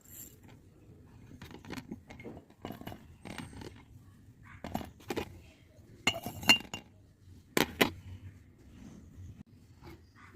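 Black cumin, cloves and garlic cloves drop into a glass bottle, making scattered light clinks and rattles with some handling clatter. The sound comes in irregular bursts against a quiet background.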